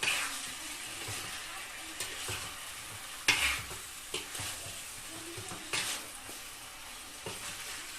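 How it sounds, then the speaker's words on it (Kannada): Chicken pieces coated in masala are stirred in a pan for chicken sukka, giving repeated scraping and stirring strokes over a soft sizzle, close and moderately quiet, with no talk. "ಸೊ ಇದನ್ನ ಚೆನ್ನಾಗಿ ಮಸಾಲೆಯನ್ನು ಮಿಕ್ಸ್ ಮಾಡ್ಕೋಬೇಕು."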